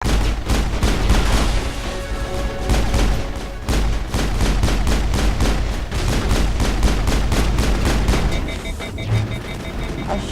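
Gunfire in Mass Effect, rapid repeated weapon shots in regular bursts, loud and close, with booming impacts mixed into a dense combat soundscape.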